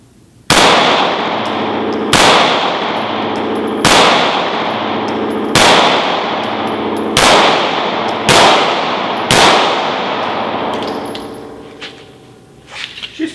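Seven loud, sharp shots from a Smith & Wesson M&P Shield 2.0 pistol, spaced about one to two seconds apart, each ringing out with a long echoing decay, followed by faint clinks.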